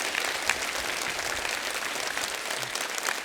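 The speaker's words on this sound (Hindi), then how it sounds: "इन चारों नौजवान सिंगर्स के लिए जोरदार तालियां हो जाए।" Studio audience on a TV comedy show breaks into steady, energetic applause welcoming four young singers, with continuous dense clapping throughout.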